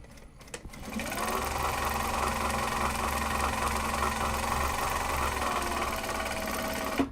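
Sewing machine stitching Japanese fabric for a tote bag, a steady close mechanical whir and rapid needle chatter running continuously for about six seconds after a brief start.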